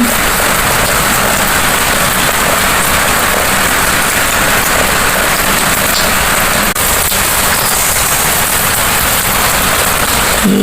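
Heavy, continuous rain pouring outside, a dense, steady broadband roar of drops on surfaces that stays loud and unbroken throughout, with no voices.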